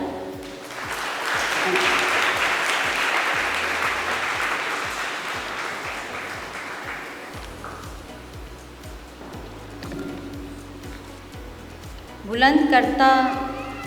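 A large church congregation applauds steadily for several seconds, then the clapping fades and a voice starts singing near the end.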